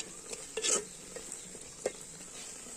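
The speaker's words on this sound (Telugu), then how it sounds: "కారం వేసుకున్న తర్వాత బాగా కలుపుకోవాలి." A spoon stirs chili powder into a snail and crab curry in a pot, giving scattered scrapes and clinks close by over a faint, steady sizzle, with no voices.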